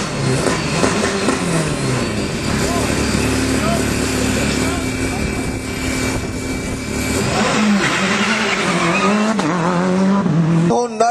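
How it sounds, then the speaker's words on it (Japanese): Petter Solberg's rally car at a 2003 tarmac rally event, its tires squealing with the engine revving loudly nearby, all under continuous speech from a commentator and crowd murmur. "Check out the tires burning on Peter Solberg's car."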